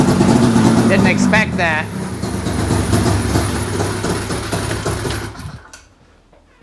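A rebuilt 2003 Ski-Doo Rev 600 snowmobile engine runs with a loud, fast, rattling buzz close by, then cuts out near the end, while someone speaks briefly over it.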